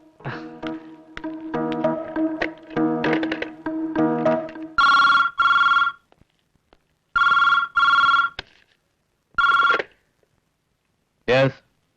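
A telephone rings in several electronic bursts with pauses between them, after a stretch of busy tonal beeping, close and clear.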